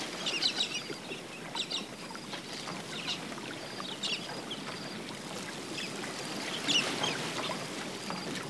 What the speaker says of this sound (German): Mit viel Lärm, wie immer, kommt ein Schwarm rosa Kakadus zum Wasser.